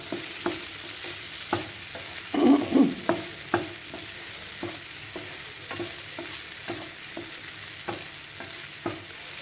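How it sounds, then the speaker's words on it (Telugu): Ivy gourd (kasara kaya) fries in oil on high heat with a steady soft sizzle, punctuated by periodic spoon scrapes and a brief louder stirring burst. "బాగా హైలో పెట్టేసుకొని వేసేస్తాను అన్నీ కలిపి వేగుతాను"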